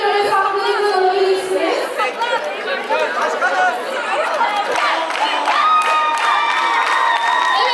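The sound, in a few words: audience applause and cheering for a school group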